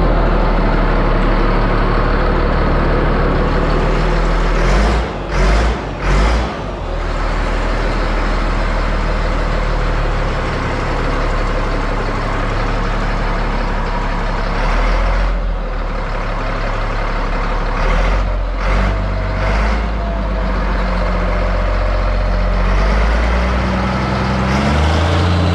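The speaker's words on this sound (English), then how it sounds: "So we got the tractor out and that's all done." A farm tractor engine rumbles loudly and steadily nearby as it runs and moves, with a few brief bursts and shifts in tone along the way and no talking.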